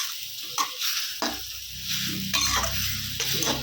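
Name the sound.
sautéing sorrel leaves (pulicha keerai) in a pan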